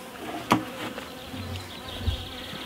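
Honey bees humming around an opened hive on a calm, overcast day after a little smoke, a steady close buzzing drone with a few louder passing bees.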